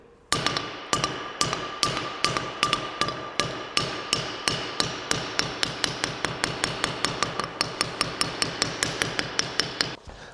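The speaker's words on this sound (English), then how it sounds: "if I do a little tip tap with the hammer" A long series of light, evenly spaced hammer taps on metal, sharp and ringing, repeating steadily about four times a second before stopping.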